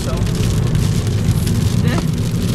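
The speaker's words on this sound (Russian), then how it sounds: "выехали в парк, называется, и дождь пошел" Rain falls on a car near the Ejsk seaside park in a summer downpour, a constant close patter and hiss of drops over a low rumbling drone, with a few faint voices in the background.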